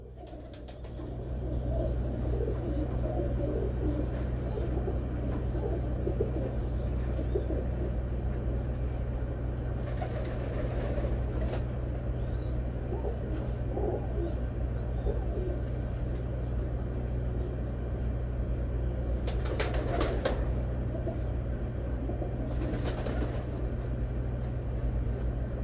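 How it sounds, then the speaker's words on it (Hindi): A pigeon held in a hand coos softly in a few short bursts over a steady low background hum, with brief rustling flutters of wings. "एक हाथ में मैंने कबूतर पकड़ लिया"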